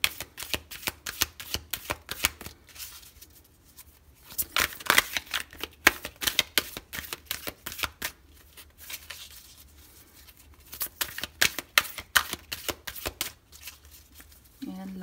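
Tarot cards are shuffled by hand in repeated quick riffling bursts with brief pauses between rounds, crisp and close.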